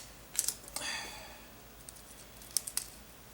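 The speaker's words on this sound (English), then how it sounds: "very carefully with the scissors" A few quiet snips of scissors trimming Scotch tape, a cluster of crisp clicks early on and another pair a couple of seconds later, with faint rustling between.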